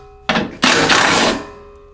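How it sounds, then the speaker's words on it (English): A self-tapping screw driven into the plastic housing of an Ariens single-stage snow thrower, model 938025, during disassembly: two close bursts of loud, broadband grinding from a power driver, the second lasting about a second before fading out. "Screw into plastic"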